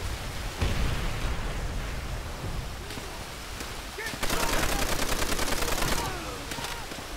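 Machine gun fire in Call of Duty: World at War, with scattered shots early on, then a loud, rapid sustained burst of nearly two seconds over a noisy battlefield backdrop.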